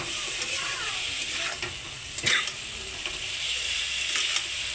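Cumin and turmeric spice paste sautéing with potato and bitter gourd pieces in a pan: a steady sizzling hiss, with a brief scrape of stirring partway through.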